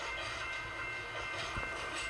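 Diesel trains pass on the Williams railways, a continuous rumble with rattling wheel clatter and a hissing wash, close and steady the whole time.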